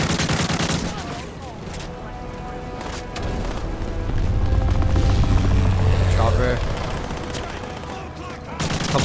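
Call of Duty: Modern Warfare 3 campaign combat: sustained rapid gunfire and booms with a helicopter-like drone and a low rumble, dense and loud, with voices talking over the battle.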